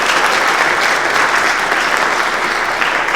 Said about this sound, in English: So please show us a round of applause for both Linda